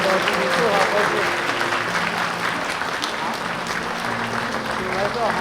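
A church congregation at a Taiwanese-language Sunday worship service applauds steadily throughout, with voices mixed into the clapping.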